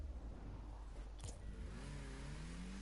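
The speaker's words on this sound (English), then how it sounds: "And then this is just engine noise." Car engine from the video game Rocket League, a steady mid-pitched hum that rises into a climbing rev toward the end, with a brief whooshing sweep in the middle, moderately quiet and alone.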